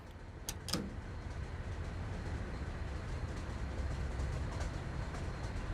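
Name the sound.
train running in a video game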